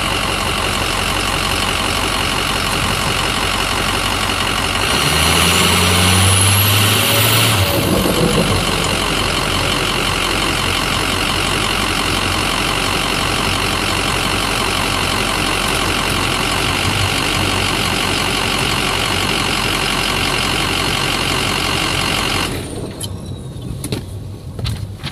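A Ford Super Duty truck engine with a 5R110W transmission runs under load during a stall speed test, a loud steady drone that surges briefly before settling to a constant hum and then cutting off near the end.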